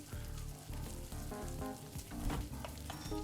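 A cutlet frying in a VRChat cooking game, a steady dense sizzle that runs the whole time, loud and close with no talk over it.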